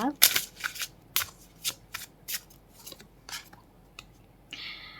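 Tarot cards being shuffled by hand: a series of crisp, close papery snaps and slides at an uneven rhythm, ending in a longer continuous riffle.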